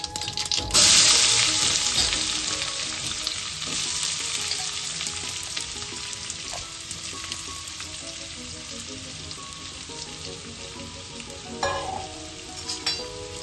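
Finely chopped garlic sizzles in hot oil in a pan for curry leaves rice bath, with a loud crackling burst at first that settles into steady frying, broken by scraping stirs of a spoon.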